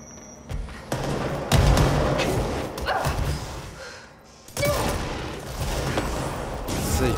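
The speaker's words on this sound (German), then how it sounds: "Explosionen" Loud, booming explosions in the video game Control erupt repeatedly with crackling debris and rumbling, dense and chaotic, like a heated game battle.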